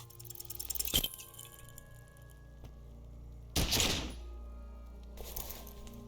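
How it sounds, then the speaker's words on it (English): In the video game Disco Elysium, a gun's weapon explodes internally, heard as a sharp crack followed by a louder burst and a fainter trailing blast, with no talk. "You hear an explosion within the weapon."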